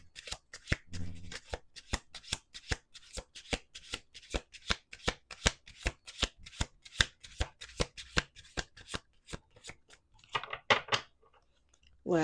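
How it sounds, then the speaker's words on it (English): A deck of tarot cards is shuffled repeatedly by hand, giving a rapid run of crisp riffles and taps close up, with a brief pause and a few softer card handling sounds toward the end. "Two more shuffles."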